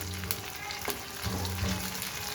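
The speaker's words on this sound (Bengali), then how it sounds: "এটা আমি এখন উল্টিয়ে দিয়েছি পরে ভালো করে ভাজা হলে আমি আলাদা করে নিয়ে নেব" Potato and eggplant slices fry in oil for crispy Bengali chips over a medium-low flame, giving a steady close crackling sizzle with a few brighter pops and no talking.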